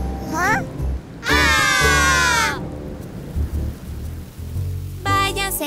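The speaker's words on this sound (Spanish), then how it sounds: "¡Vete, lluvia!" Rain pours and thunder rumbles in a children's song about a T-Rex, a loud, steady wash of rainfall with heavy low rumbles, broken by bursts of sung, vocal-like tones and roars over the storm.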